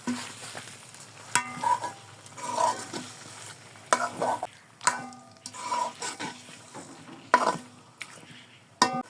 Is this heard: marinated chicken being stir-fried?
yes